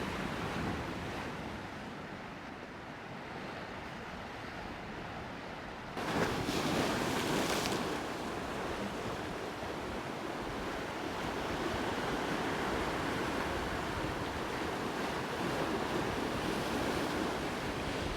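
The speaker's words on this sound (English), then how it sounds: "Just look at the sea states and the waves crashed against the rock." Sea waves surge and crash against the rocks at Sker Point on a calm day, a loud continuous roar of surf mixed with wind buffeting the microphone, swelling sharply partway through, with no voices.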